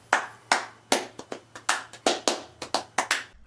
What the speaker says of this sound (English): the second part gets into the ultra-fast extreme clapping